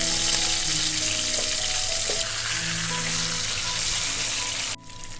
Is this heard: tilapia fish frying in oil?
yes